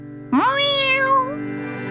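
Jess the cat gives a single drawn-out meow, rising then falling, close and clear over a faint steady hum.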